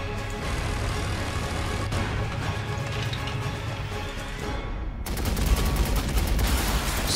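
Gunfire in a Warhammer 40,000 Sanctus Reach battle: a continuous dense crackle of shots under a steady rumble, swelling louder toward the end, with no talk.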